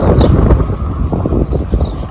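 Heavy wind buffets the microphone in a loud, continuous low rumble with gusty surges throughout.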